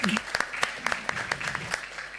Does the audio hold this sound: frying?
no